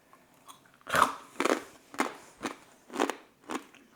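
Loud, crisp crunching bites into smoked pork rinds made on a pellet grill, six or seven sharp crackling chews in an uneven rhythm, close up with no talking.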